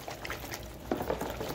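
Water poured into a large bowl to soak a cotton or 3M face mask, a short close bubbling trickle of liquid that swells briefly near the end.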